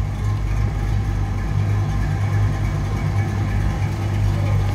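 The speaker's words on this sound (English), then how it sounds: "It's a great sounding car. Listen to that rumble." A 1963 Chevrolet Impala two-door hardtop rumbles at a steady low idle, a deep continuous engine drone heard up close.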